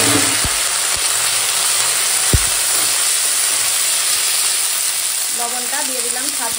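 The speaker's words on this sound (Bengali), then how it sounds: "ফোড়নের সঙ্গে এখন বেশ খানিকক্ষণ ভেজে নিয়েছি করলাটা" Bitter gourd fries in oil with tempering spices, giving a loud, constant sizzle and hiss with a few stirring knocks, and a voice briefly surfaces near the end.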